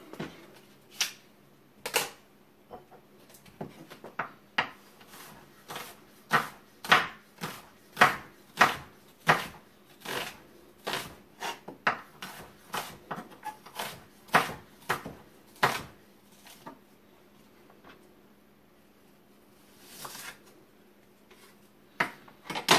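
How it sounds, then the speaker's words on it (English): A knife chops an onion on a board in a home kitchen, a long run of sharp, uneven taps close by, some in quick bursts and others spaced out, with brief pauses between. "we're going to start off by cutting this onion up"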